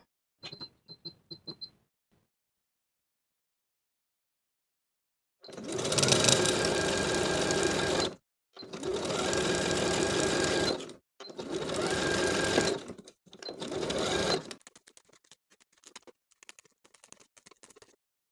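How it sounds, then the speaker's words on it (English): A sewing machine stitches swimsuit cup pieces together, side and middle cups with tear-away stabilizer, running in four steady bursts of a few seconds each after a brief click, with short pauses between and no talk. "Repeat to sew together both side cup and middle cup pieces."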